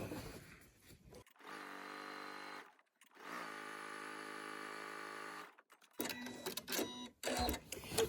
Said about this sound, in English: So then sew all the way to the end.